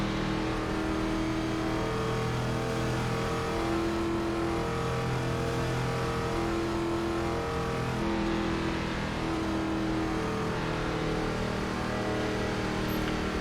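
A NASCAR Gen 4 stock car engine roars at full throttle in the iRacing sim at New Hampshire Motor Speedway, a loud, steady, continuous drone that holds nearly constant for the whole stretch.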